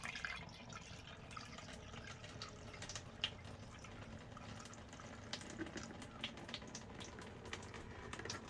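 Acrylic paint waste water trickles and drips steadily through a filter, a soft, continuous wet patter with scattered louder drops, fairly quiet and with no talking.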